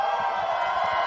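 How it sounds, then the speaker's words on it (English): Crowd cheering for Cloud9 at a Valorant esports match in the VCT Americas league, a steady roar of many voices held at an even level across the moment. "The Cloud9 cheers coming from the crowd."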